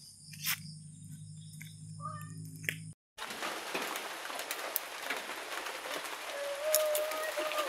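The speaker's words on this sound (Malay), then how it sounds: "Hujan tapi tak kuat, memang tapi hujan lah." Light rain falls steadily at night behind a house, a soft continuous patter after a short gap, with faint insect or bird calls scattered through it and no talking.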